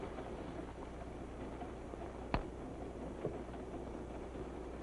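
A steady low rumble of a train rolling along the tracks, with a couple of sharp clacks standing out over the continuous noise.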